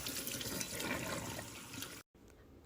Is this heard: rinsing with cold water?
yes